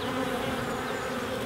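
Honey bees in an open hive during a UK beekeeping inspection produce a dense, steady buzzing drone, close and continuous with no voices.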